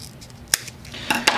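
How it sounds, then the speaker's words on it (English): Excess cable being trimmed while assembling a flex controller, likely with scissors, produces a few sharp snips and clicks close by: one crisp cut, then two more near the end. "we're going to trim off the extra cable here"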